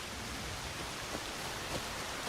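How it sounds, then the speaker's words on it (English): Steady rain in the video game Assassin's Creed Shadows, a dense even hiss with faint droplet patter throughout, no voices. "Even if it is raining."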